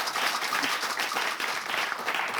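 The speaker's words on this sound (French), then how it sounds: "Applaudissements pour vous, les amis." Steady, dense applause fills a live French television game-show competition, a continuous wash of many hands clapping together without a break.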